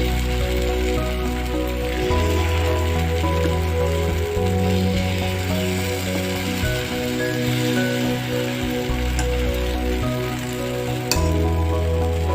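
Jackfruit paniyaram batter cooks in a paniyaram pan with a steady, even sizzle that runs throughout, backed by a constant low hum and no voices.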